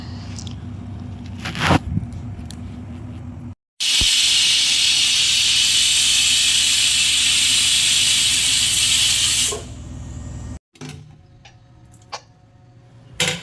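Pressure cooker on a kitchen stove releasing steam in one loud, steady hiss lasting several seconds, set between quieter stretches of clatter and household noise.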